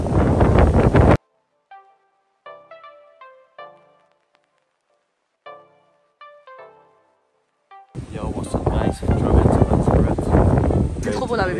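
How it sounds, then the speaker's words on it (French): Strong wind outdoors on Lanzarote, loud roaring gusts buffeting the microphone at the start and again in the second half, with a quieter stretch of faint tonal sounds between. "Regardez comment il y a du vent de ouf."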